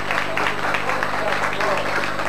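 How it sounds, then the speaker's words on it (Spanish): Audience applause at a school poetry contest welcomes a student poet from School No. 3, a steady wash of many hands clapping close by, with voices talking over it. "El aplauso muy fuerte para recibir a la alumna de la escuela 3, Maica Sabrina Viera"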